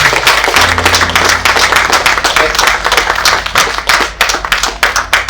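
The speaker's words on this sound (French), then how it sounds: "Sur vos acclamations, s'il vous plaît" Loud, sharp, irregular hand clapping from a congregation at a church anniversary celebration, close and energetic with bursts of cheering, while a low musical drone hums underneath.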